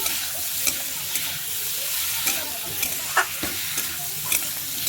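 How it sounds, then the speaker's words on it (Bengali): Potatoes fry in a pan for a Bengali curry, giving a continuous sizzle broken by repeated scraping stirs and small clinks, close and clear. "দেখেন আলুটা কি সুন্দরভাবে ভাজা হয়ে গেল"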